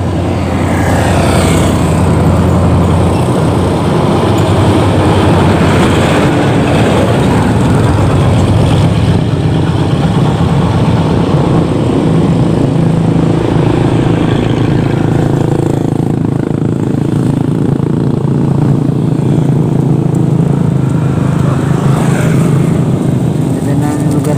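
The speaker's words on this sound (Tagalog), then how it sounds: "So yung mga dumadaan na sasakyan." Vehicles pass along a road near Don Salvador Benedicto, a steady loud engine and tyre rumble that swells and fades through the stretch, with voices talking over it.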